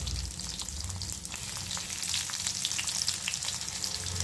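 Crushed garlic and chopped onion sauté in a pan for fenugreek greens, giving a steady close sizzle with occasional stirring scrapes and no voices.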